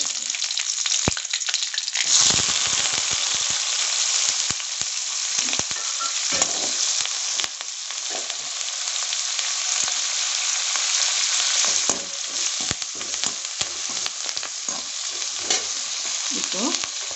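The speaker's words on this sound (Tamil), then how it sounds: "நல்லா கடுகு பொரியட்டும்" Mustard seeds, asafoetida and onions fry in hot oil for bitter gourd sambar, crackling and popping over a dense, continuous close sizzle that runs throughout with occasional stirring and no talk.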